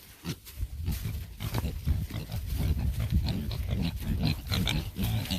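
Pigs grunt and oink repeatedly at feeding time on a Northern Michigan homestead, a dense, continuous run of close snuffling grunts with no talk over it.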